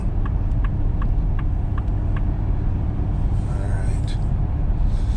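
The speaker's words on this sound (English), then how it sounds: "We got a truck coming in." A truck rolls in along a road, a loud steady low rumble of engine and tyres close by, with short hissing bursts like air brakes near the end.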